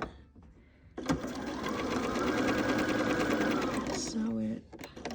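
A sewing machine stitches quilt block pieces in one sustained fast run, close and clear, after a brief handling click, ending with small clicks.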